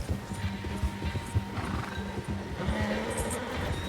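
A horse in the video game Red Dead Redemption 2 clip-clops along with a whinny over a soft game soundscape, moderately loud and with no talking.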